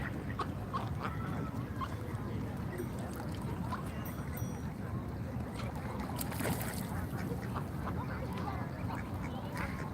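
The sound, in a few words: ducks quacking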